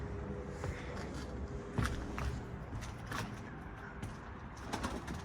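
Pigeons in an office coop give soft low coos amid scattered wing flutters and shuffling footsteps, with faint room noise throughout and no talking.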